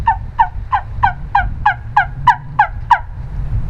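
A wing bone turkey call sounding a rhythmic series of about ten sharp, evenly spaced clucks and yelps, close and clear with no talking.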